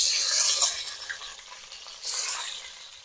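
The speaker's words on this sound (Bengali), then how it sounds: "এই কুচানো পেঁয়াজটা তেলের মধ্যে দিয়ে দিলাম আমি" Chopped onion dropped into hot oil sizzles with a bright, hissing crackle that surges twice, close by and alone without voices.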